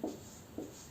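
Numbers written by hand with a pen on paper: two short, quiet scratching strokes separated by a brief pause, close and otherwise silent.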